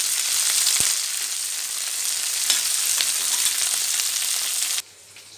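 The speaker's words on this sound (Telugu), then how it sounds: "కరివేపాకు, కొత్తిమీర, పుదీనా, కొంచెం డీప్ ఫ్రై చేయండి" Curry leaves, coriander and mint deep-fry in hot oil with a dense, bright hiss and crackle, one sharp pop near the start, then the sound drops off abruptly at the end.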